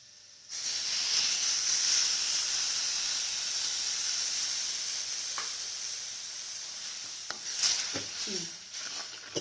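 Water left from boiling jackfruit seeds hits a hot pan and bursts into a loud, steady hissing sizzle that slowly eases, followed by a few clinks and stirring noises near the end.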